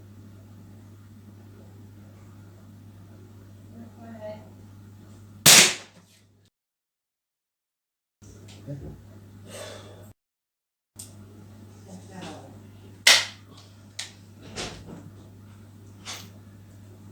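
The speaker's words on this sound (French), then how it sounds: "Je vais tirer 3 plombs pour déterminer le plomb moyen" Beeman P17 air pistol firing pellets, with three sharp, loud reports spaced a few seconds apart amid quiet room noise and a steady low hum.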